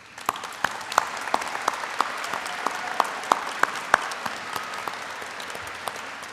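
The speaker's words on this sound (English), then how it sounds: "I invite our graduates to join me in applause for those who have helped make possible this day of" Graduates clap together at a university commencement, a dense, steady wash of applause with sharp individual claps popping out of it throughout, sustained and fairly close with no talk over it.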